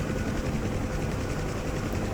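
A Huey helicopter in the DCS flight game drones loud and steady, its rotor thrum and engine roar continuous and close, with rain noted in the scene and no speech.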